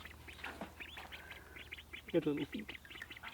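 Two pet ducks at an off-grid cabin give soft, scattered quacks and peeps nearby, with a louder burst of calls toward the end, while a person talks quietly over them.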